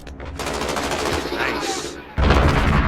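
Video game gunfire crackles in rapid bursts throughout a shooter match, loud and dense, with a heavy blast near the end and a voice briefly talking underneath.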